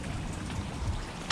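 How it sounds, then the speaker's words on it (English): Steady rain falls outdoors, making a dense, continuous patter with scattered louder drops. It is loud and close throughout, with one sharper splash near the end. "Raining, yeah."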